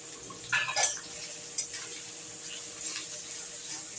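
Chopped onions tipped onto potatoes in a pan for a cabbage and rohu fish head curry, with a few close clattering knocks of bowl and utensil over a faint background hiss.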